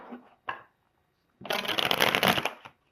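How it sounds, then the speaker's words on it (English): Tarot cards riffle-shuffled in a long, dense burst, preceded by a couple of brief card taps and slides, close and fairly quiet with no talking. "We're going to go ahead and get some clarifying cards here too."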